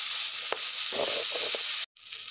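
Ginger, garlic and masala paste sizzles in hot oil for a capsicum curry: a steady, bright hiss with a few soft stirring scrapes, cut off by a brief moment of silence near the end.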